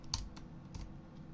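A few faint, quick keystrokes tap on a computer keyboard, sparse and close, with no voices over them.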